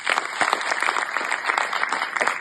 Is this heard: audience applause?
yes